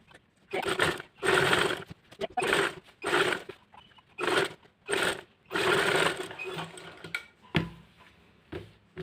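A sewing machine stitches the neckline of a frock-style nighty in bursts of rapid, whirring stitching, stopping and starting about eight times with brief pauses and small clicks between runs.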